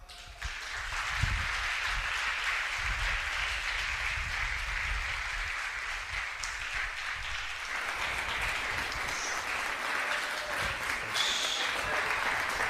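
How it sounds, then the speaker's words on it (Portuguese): A congregation claps their hands in praise during a church service, a long unbroken stretch of dense clapping that holds steady throughout, with faint tonal sounds briefly rising through it. "Louve ao Senhor com suas palmas."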